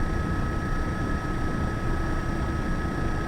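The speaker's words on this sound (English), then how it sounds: "I am absolutely loving this helicopter" An EC135 Eurocopter in the Aerofly FS2 flight simulator flies steadily over Hawaiian canyon hills, its rotor and turbine making a constant, loud, dense drone with a faint whine on top.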